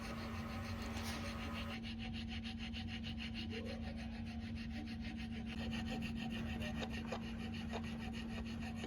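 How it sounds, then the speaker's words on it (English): Wood rasp filing a notch cut into a wooden stool crosspiece, fast regular back-and-forth rubbing strokes that scrape steadily and close for the whole stretch, under a faint constant background hum. "use a rasp to even out the cut"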